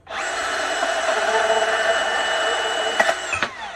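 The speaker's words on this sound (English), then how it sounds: "And cut that little nub off." A power tool cuts a small copper nub off a piece of brass scrap, giving a loud, steady high-pitched whine for about three seconds that ends in a couple of sharp clicks as it stops.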